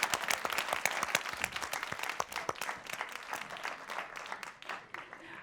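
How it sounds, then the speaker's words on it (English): An audience at the 2021 Santam Women of the Future Awards applauds the finalists, a warm round of dense clapping that stays steady and moderately loud, then thins slightly toward the end. "how about another warm round of applause for all of our finalists?"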